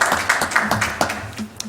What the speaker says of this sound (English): The clapping stopped, Pat.